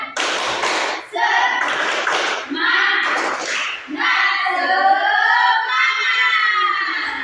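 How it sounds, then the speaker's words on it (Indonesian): A class of young children stands and chants a rhythmic 'tepuk semangat' clapping routine, loud shouting voices mixed with bursts of hand claps in a classroom. "sebelum memulai pembelajaran kita tepuk semangat dulu yuk, biar kita semangat"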